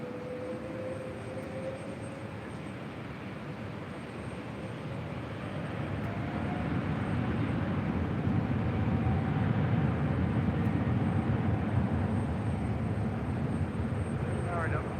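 A Delta heavy airliner takes off from LAX runway 24 left. A distant jet roar builds and swells into a broad, steady rumble. Radio voices and talk carry on over it.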